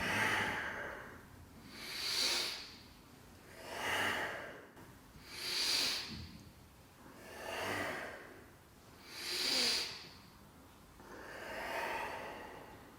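Slow, deep rhythmic breathing during the kundalini yoga camel walk, about six long airy inhale and exhale swells at a steady pace, close and fairly soft, with no talking.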